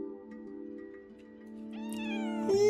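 A cat meows in the video game Wuthering Waves, a drawn-out tonal call that rises near the end over a steady background hum, with no talk.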